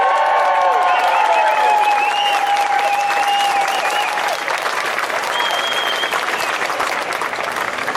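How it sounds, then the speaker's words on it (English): A large crowd at a Brisbane protest march rally applauds and cheers loudly, dense continuous clapping with scattered whoops and shouts rising above it for several seconds. "Can I just say, Brisbane, give yourselves a big round of applause."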